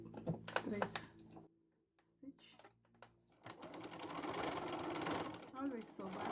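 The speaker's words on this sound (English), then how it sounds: "Now I'm going to just do the straight stitch." A sewing machine runs a straight stitch along a bag made from upcycled material, with talk over short bursts at first, then a near, steady whirring run of stitching after a pause.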